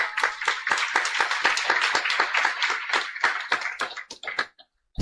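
A crowd claps briskly and loudly in unison at a religious gathering, a dense run of hand claps that thins out and fades to scattered final claps near the end.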